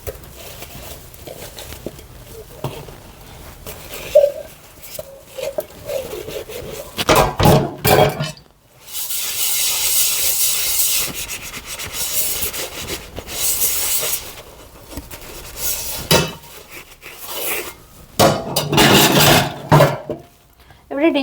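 Dishes washed by hand in a sink at home give running-water rushes, rubbing and clattering of pans in uneven bursts, close, with some talk in between.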